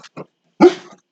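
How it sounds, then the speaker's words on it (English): Dogs at an open house door give a few short, close barks, with a couple of small yips followed by one louder, rougher bark that trails off. "They don't even know what they're barking at, honey."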